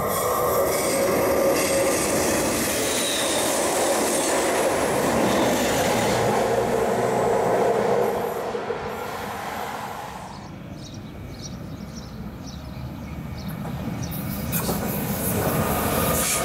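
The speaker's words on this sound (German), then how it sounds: "jetzt fahre ich mit der S-Bahn nach Brunnen" An S-Bahn commuter train rolls toward Brunnen in Switzerland, heard from inside as a steady rumble of wheels and carriage noise that fades partway through, then builds again.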